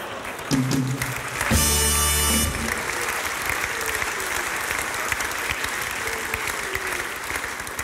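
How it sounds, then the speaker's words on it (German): An audience claps steadily throughout, a dense, continuous patter of many hands at moderate distance, briefly interrupted by a short tonal burst early on. "Applaus"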